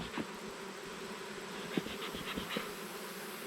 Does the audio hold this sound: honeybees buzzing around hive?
yes